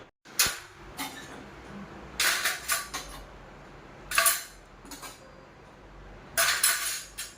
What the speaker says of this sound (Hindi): मैं अब यहाँ किचन में आके अब इन सारे बर्तनों को लगा दूँगी